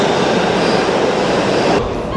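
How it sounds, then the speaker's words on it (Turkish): A New York subway train running at speed, a loud, steady rumble with rattling wheels and faint squeals that holds throughout with no talk. "Metro bayağı hızlı gidiyor bu arada."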